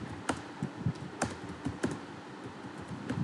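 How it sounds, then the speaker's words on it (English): Someone types an SQL select statement on a computer keyboard in Oracle, producing steady, close keystrokes with heavier taps mixed in, heard alone without speech. "if you write select statement"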